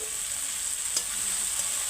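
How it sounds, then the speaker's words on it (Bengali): Potatoes, coriander leaves and spice masala fry with chicken in a pan over a wood-fired clay stove, a steady close sizzle with a faint stir or two. "এইভাবে আমি আলু দিয়ে ধনে পাতা দিয়ে মশলাটা কষে দেবো"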